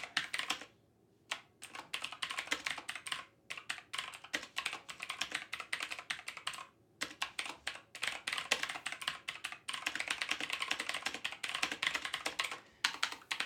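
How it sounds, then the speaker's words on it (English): Typing on a computer keyboard during a live stream: close, brisk bursts of keystrokes broken by short pauses, with no talking over it. "Is that annoying, that typing?"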